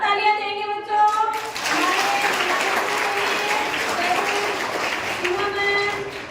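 Schoolchildren at a student-week storytelling and debate event applaud their teachers, a dense burst of clapping that swells after a brief spoken lead-in and carries on steadily, with voices faintly audible before and at the end.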